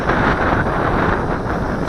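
Steady wind buffeting a microphone during a JJRC H12C drone flight, a continuous loud low rumble with gusty fluctuations and no other clear sounds.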